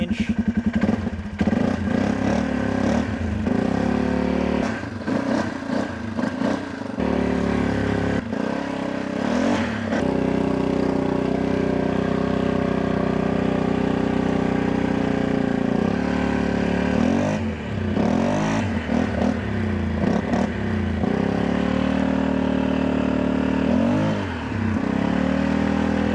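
A Polaris Sportsman 570 ATV engine drives in high range, a close, continuous motor drone with repeated revving surges and rattling clatter as the throttle rises and falls.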